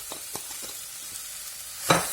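Garlic and spices are stirred in a sizzling pan, with a faint steady hiss and a few soft scrapes, then a louder scrape and clatter near the end.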